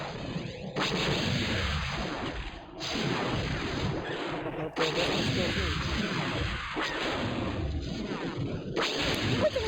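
Blaster fire and battle effects from the Star Wars: Rebellion strategy game play as loud, continuous bursts of laser shots and booms with a few brief gaps, while a voice talks over them.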